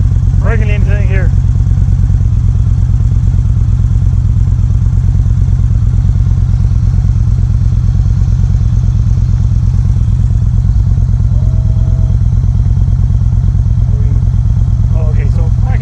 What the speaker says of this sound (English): we'll shut the bike off so that we don't have to yell over the bike